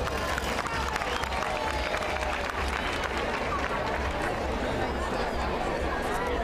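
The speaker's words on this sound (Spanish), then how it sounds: "Forte ese aplauso." A crowd applauds at a carrilana (soapbox gravity racing) Gran Prix: dense, steady clapping mixed with crowd murmur and voices, filling the whole stretch at an even level.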